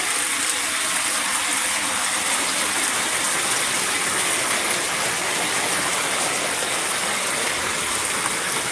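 Torrential rain pours at night, a dense, loud, unbroken hiss that drums on the roof without a pause, with water dripping through beneath it and no voices.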